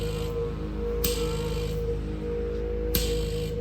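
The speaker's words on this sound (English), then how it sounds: "I'll show you real quick by turning on this vacuum button" A steady mechanical hum of the vacuum suction pump in a 2013 Ford E450 Medix type 3 ambulance running continuously, with a couple of faint clicks.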